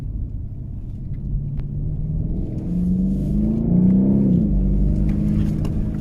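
A BMW M850i with a V8 engine accelerates through a slalom, its deep engine rumble rising in pitch as it revs, heard from inside the car with no talking.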